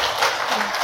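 A brief burst of dense audience applause at an indoor book concert, welcoming performers to the stage.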